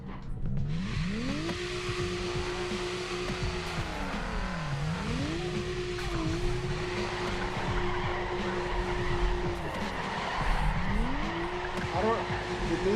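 A car drifts and brakes hard in a racing video game, with a loud engine that revs up and down repeatedly under long, continuous tire squeals and skids, while people talk over it.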